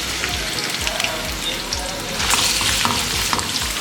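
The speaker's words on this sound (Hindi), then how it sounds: "अब इसमें प्याज शामिल करेंगे और इसको लाइट गोल्डन होने तक फ्राई कर लेंगे" Sliced onions from two large bulbs fry in oil in a karahi, giving a steady, loud, dense sizzle with faint stirring scrapes throughout and no voices.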